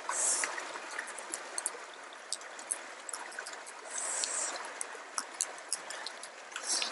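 Steady wash of a mountain stream flowing over rocks in early spring, with scattered bright droplet ticks and splashes close by; no voices.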